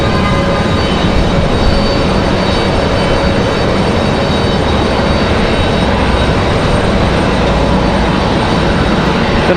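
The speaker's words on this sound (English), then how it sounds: "The big Boeing business jet." A Boeing business jet at Raleigh Durham airport roars steadily with a loud, unbroken engine drone and a broad rushing hiss, holding at a constant level throughout with no talk.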